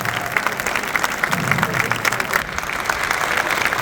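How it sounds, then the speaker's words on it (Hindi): Loud applause from a conference audience honoring a guest speaker, many hands clapping briskly and continuously with a brief dip midway, a faint crowd murmur beneath. "तो जोरदार तालियां हो जाए आचार्य मनीष जी के लिए"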